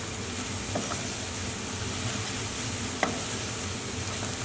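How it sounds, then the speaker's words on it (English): Softened onions and chopped coriander frying in a pan for Middle Eastern manti filling, a steady close sizzle with a couple of faint stirring clicks, no voices. "Once your onions have softened up, we'll add in our chopped coriander."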